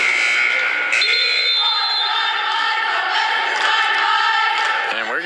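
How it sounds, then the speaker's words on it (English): A loud, sustained electronic buzzer blares over the murmur of an arena crowd, marking the end of a period at a basketball game. "we never actually start when the period buzzer goes off"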